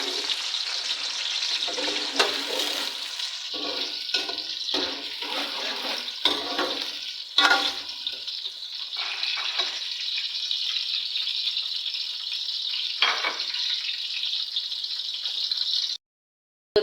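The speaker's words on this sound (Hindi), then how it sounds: "इसमें हम डालेंगे पहले प्याज। प्याज को हम फ्राई करेंगे," Onions frying in a cooking pot for haleem, with a steady, loud hiss of sizzling oil and a few scattered pops and stirring knocks, close throughout before cutting off abruptly near the end.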